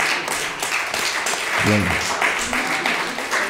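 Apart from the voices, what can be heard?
audience applauding Linda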